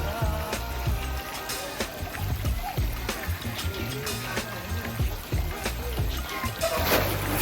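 Water rushing and splashing down a resort water slide, with bursts of spray and splatter over continuous flow, while people talk faintly nearby.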